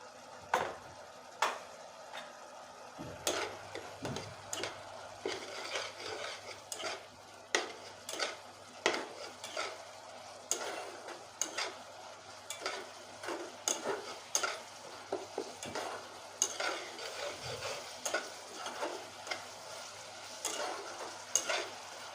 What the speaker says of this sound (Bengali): এই দেখুন মশলা আমি কষিয়ে নিয়েছি